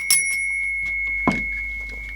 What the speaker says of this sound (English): the same phone, still a bell in it.